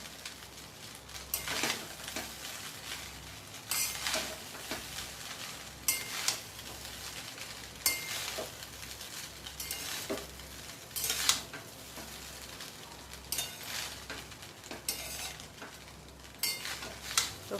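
Fried rice with mixed vegetables is stirred in a pan over a low gas flame, with steady rhythmic scraping strokes and soft clatter over a constant light frying hiss, close up and without speech.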